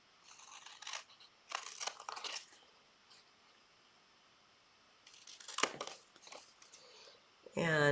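Scissors cutting card stock corners for handmade dogwood cards, several short crisp snipping bursts at close range with quiet gaps, ending in a louder rustle.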